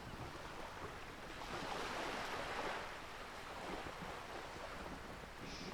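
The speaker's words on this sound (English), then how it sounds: "Say nothing, observe the large body of water," Cold open sea in the Disco Elysium video game: a steady, broad wash of surf and wind that swells and fades gently, close and continuous, with no voices.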